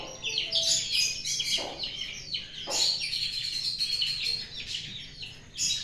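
Small chicks in a home bird setup chirp and tweet continuously, high-pitched and fairly close, with overlapping calls and no talking.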